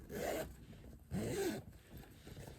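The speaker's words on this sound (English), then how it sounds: "overlay zipper pocket" Two quick zipper pulls on a faux leather overlay pocket give short raspy zips close up, separated by a brief pause, with a fainter rub trailing after.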